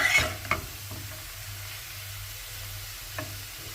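Mustard greens stir-fried in a pan, a low sizzle with a few sharp scrapes and clinks of a spatula against the pan, close and fairly quiet.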